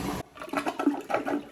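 A newly installed toilet, replacing an old one that was grouted to the floor, flushes loudly up close, with a sharp rush of water followed by gurgling swirls and refilling noise.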